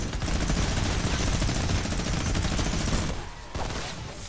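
Sustained rapid automatic gunfire in Fortnite: Save The World, one player shooting at teammates, a dense loud stream of shots that cuts off near the end before quieter firing resumes.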